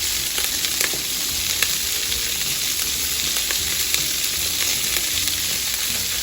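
Sliced almonds and garlic powder fry in melted butter in a pan, giving a loud, even, continuous sizzle with faint crackles, close up and with no speaking.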